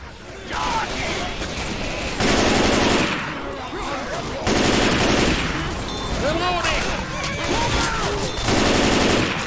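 Loud, sustained automatic gunfire from the zombie shooter game Left 4 Dead 2, No Mercy campaign, with rapid bursts rattling almost continuously and surging in intensity several times.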